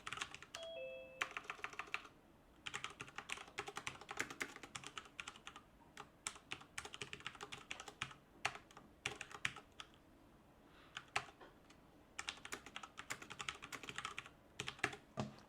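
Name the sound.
typing on a computer keyboard, writing a program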